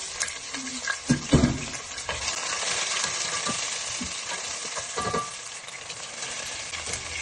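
Onion, garlic and dried red chilies with whole cumin fry together in a pan for jute leaf lentil curry, giving a dense close sizzle with clattering stirring knocks, louder in the first seconds and then settling into steady hiss.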